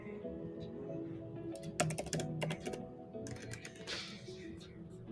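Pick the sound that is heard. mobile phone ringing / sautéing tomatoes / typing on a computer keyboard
typing on a computer keyboard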